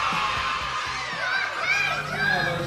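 Party crowd at a Christmas 1977 show cheers and whoops loudly and steadily for the band, with shouts and scattered voices over a dense roar of noise.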